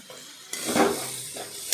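A spoon stirs a simmering curry in a pan, giving a brief scrape and clatter over a soft sizzle, close by and moderately quiet.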